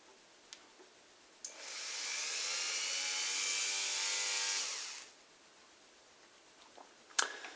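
A small high-speed mini grinder running through a flexible shaft whirs up, runs with a steady whine for a few seconds, then spins down, with a click before and after.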